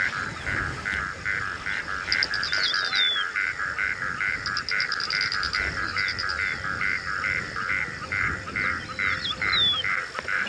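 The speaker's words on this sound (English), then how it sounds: "Even the frogs are giving us a slow clap, almost." Frogs croak after heavy overnight rain on a morning safari drive in the African bush, a steady rhythmic chorus pulsing continuously, with bird chirps and trills over it.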